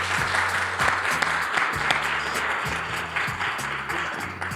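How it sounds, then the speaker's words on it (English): Guests at a Howard University School of Law 20th-anniversary reunion applaud panelists with steady, moderately loud clapping over a thumping low bass beat from background music. "I want all of y'all to give a round of applause to all of our panelists"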